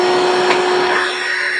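A Harbor Freight cordless 7-gallon shop vac runs with a steady, loud whine and airy rush, alone and unbroken.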